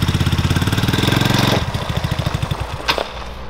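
A four-seater go kart's engine idles loud and close with a fast, even chugging beat that slows and loosens halfway through into a rougher, uneven putter.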